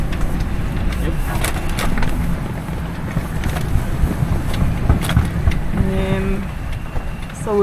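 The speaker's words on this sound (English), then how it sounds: "It's quite windy." Strong wind roars steadily around a sailboat at sea on a passage from Opua, New Zealand, to Fiji, with a few brief tones and some rustle rising near the end.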